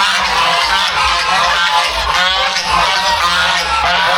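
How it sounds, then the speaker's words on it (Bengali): Large flock of geese honking loudly and continuously at a rural farm with a cowshed near Kolkata, dense overlapping calls close by with no speech. "এখানে প্রচুর কিন্তু রাজহাঁস আছে।"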